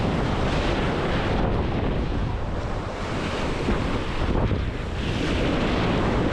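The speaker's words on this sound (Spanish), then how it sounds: "Ahora que rompió la ola tendría que entrar rápido para que no me rompa otra tan grande" Ocean surf breaking on a sandy beach, a continuous loud roar of crashing and rushing water mixed with heavy wind buffeting the microphone, with no talk.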